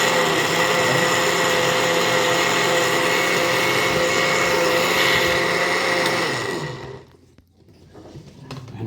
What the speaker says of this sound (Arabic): انا بفرمهم في الخلاط لان انا ما عنديش الكبه